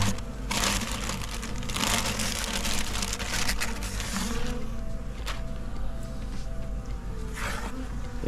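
Honeybees buzz steadily around active beehives on a small farm, a dense continuous hum close by with some crinkling handling noise throughout.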